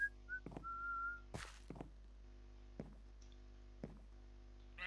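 Minecolonies colonist whistling in the Minecraft mod, a short clear tonal whistle phrase near the start over a steady low hum, followed by scattered soft knocks and thunks of building work.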